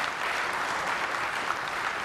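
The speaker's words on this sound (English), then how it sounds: "And this is where you applaud." A keynote audience at a Microsoft developer conference applauds steadily, a dense even wash of many hands clapping at moderate distance with no talk over it.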